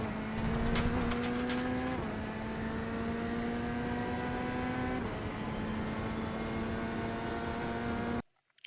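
Chevrolet Corvette Z06 GT3.R in iRacing at Imola, a loud droning engine tone holding steady, shifting pitch at gear changes around two and five seconds, then cutting off abruptly near the end.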